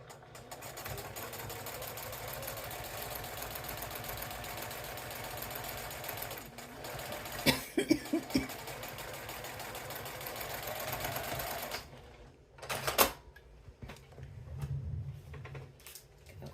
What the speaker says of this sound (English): we're just going to sew down the bottoms